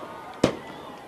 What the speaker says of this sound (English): Dustin, when I shoot fireworks in my neighborhood this time of year, I get the police called on me